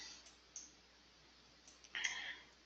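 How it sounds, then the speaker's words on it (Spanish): A computer mouse gives faint, sharp clicks, a few isolated ticks followed by a quick double click, with no one talking. "Damos doble clic para traer esta casilla"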